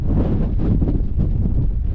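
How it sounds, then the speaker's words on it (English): Strong wind buffets the microphone high up near tall towers, a steady low roar with gusty swells that continues throughout. "it's windy as fuck up here"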